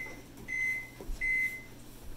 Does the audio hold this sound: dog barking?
no